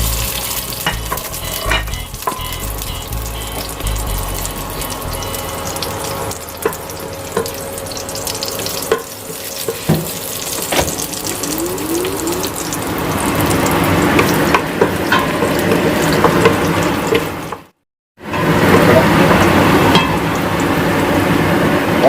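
Garlic sizzling and frying in a pan for pork afritada, a steady loud crackling hiss with occasional stirring scrapes, close up, with a brief dropout near the end.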